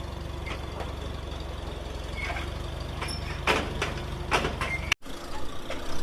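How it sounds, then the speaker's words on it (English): A tractor without power steering idles with a steady low engine drone while it is swung around to hitch onto wagons. A few clanks and a sharp knock stand out near the end. "So he's just gonna whip the tractor around, we'll hook it up to the front hitch."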